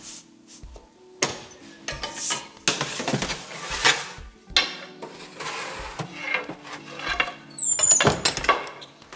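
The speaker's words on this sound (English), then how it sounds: "So we're going to be popping these into the oven" Loaves of organic cottage bread loaded into a bakery oven: a run of close wooden and metal clatters, knocks and scrapes, with a squeaking door or tray, coming in irregular bursts.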